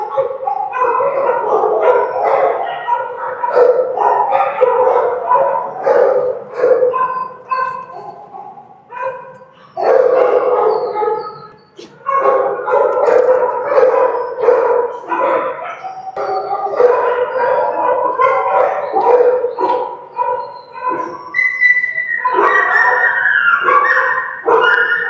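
A dog in a kennel barks, yips and howls almost nonstop, loud and close, in urgent bursts with brief pauses and a drawn-out howl near the end.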